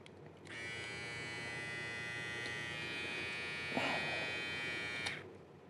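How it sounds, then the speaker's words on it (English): A Xiaomi Enchen Sharp3S electric hair clipper switches on with a click, runs with a steady close, high-pitched motor buzz for about four seconds, and then switches off. "To turn the clipper on, you have to press this button and push it up."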